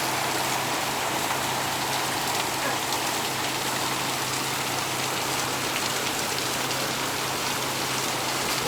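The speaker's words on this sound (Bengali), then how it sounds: "আপনারা দেখতে পাচ্ছেন বৃষ্টি।" Heavy rain pours steadily onto surfaces outside a shop during a flood, a dense continuous hiss that stays loud and even throughout with no voices, and a faint low engine-like hum runs underneath.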